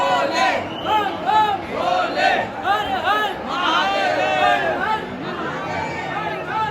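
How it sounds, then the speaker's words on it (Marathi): A dense crowd of devotees at the Mahakal temple in Ujjain fills the air with loud, overlapping chatter and chanting voices that rise and fall continuously, close and busy throughout. "खूप गर्दी आहे."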